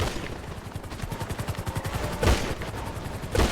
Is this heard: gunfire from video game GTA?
yes